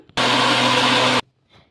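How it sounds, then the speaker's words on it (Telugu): A mixer grinder whirs loudly and steadily for about a second, then cuts off abruptly, followed by a faint rustle. "మూత పెట్టేసుకొని మెత్తగా మిక్సీ అయితే పట్టేసుకుందాం"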